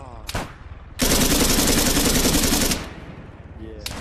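Sustained loud burst of gunfire in Arma 3 combat, a dense continuous volley lasting nearly two seconds, flanked by brief sharper shots and a voice speaking briefly at the start.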